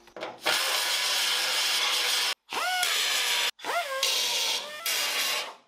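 A power tool strips paint and zinc plating from the step of a Mazda RX-7 FD3S during a restoration, a loud harsh grinding in three bursts separated by brief stops, with the pitch sliding as each burst spins up.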